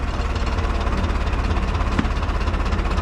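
Tractor engine, likely a C-360, running steadily in second gear while driving down a slope during a wheat harvest, with a low, even idle-like rumble and mild knocking throughout, no talk.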